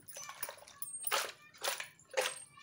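A goat-head curry with turmeric, oil and a glass of added water is stirred in a pressure cooker pot, three wet sloshing scrapes spaced about half a second apart, close and soft.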